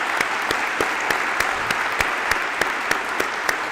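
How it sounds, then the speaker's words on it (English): An audience at a high school senior awards ceremony claps for graduating seniors, a steady wash of applause with a few sharp, regularly spaced louder claps standing out, sustained and fairly close. "Let's give them all a round of applause."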